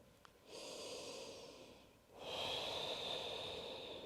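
A long, close, audible inhale gives way to a fuller, steady exhale during a yoga session, both calm and unhurried with no talk.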